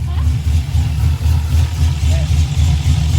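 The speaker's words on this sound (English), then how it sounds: "I'm gonna let it warm up for a little bit, like I said, and then I'll just rev it up a couple times" LSA-swapped car engine warming up, a loud steady low idle rumble close by with slight rhythmic pulsing throughout, no clear revs yet.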